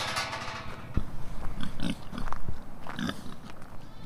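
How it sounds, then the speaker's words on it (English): Kunekune pigs on a Highland croft give several short, close grunts over a background of rustling and low outdoor noise, with a brief sharp knock partway through. "They're Cooney pigs."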